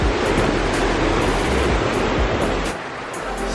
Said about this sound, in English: First time seeing this river run like this.